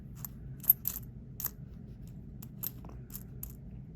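Corroded customer-rolled pennies being handled and sorted, a series of light metallic clinks and taps scattered irregularly over a quiet low background hum.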